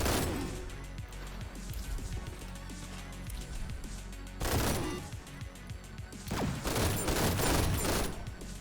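Thunderlust SMG fired in the shooter game GTTOD: Get To The Orange Door, rapid crackling bursts of gunfire with sharper, louder volleys near the middle and end, close and punchy.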